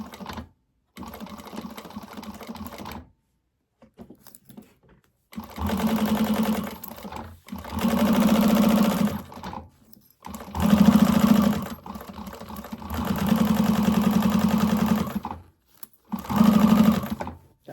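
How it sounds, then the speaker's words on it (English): A sewing machine stitches fabric bottom bands placed right sides together at a regular stitch length, running in several steady whirring bursts of a second or two each, separated by short silent pauses. "we're going to stitch this at the seam allowance she gives, at the regular stitch length that you may use"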